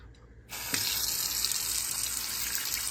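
Water runs steadily from a lead-free, no-drip wall-mount commercial pot filler faucet into a kitchen sink, starting abruptly after a brief quiet moment and continuing as a strong, even, close gush with good pressure.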